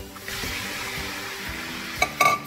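Pork belly for adobo fries in a kawali with a soft, steady sizzle and faint stirring, ending with a couple of louder clinks and scrapes of a utensil against the pan.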